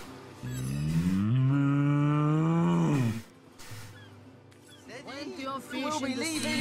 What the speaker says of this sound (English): What's this cow saying?